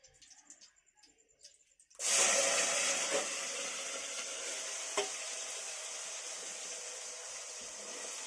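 Hot oil in a pan bursts into a loud sizzle as vegetables, brinjal and ridge gourd, hit it, then settles into a steady hissing fry with a faint stirring tap partway through.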